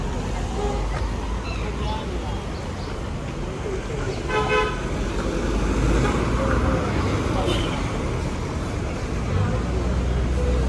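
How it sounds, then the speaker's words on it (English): Busy street traffic on 20th Street in Yangon's Chinatown: a steady roar of vehicles with repeated car horn toots and background crowd chatter. "Quite busy traffic atmosphere now."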